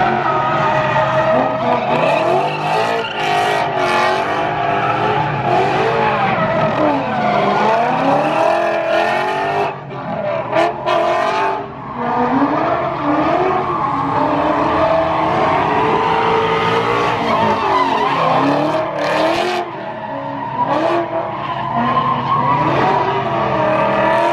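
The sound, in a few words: NASCAR race cars racing at the Pennzoil 400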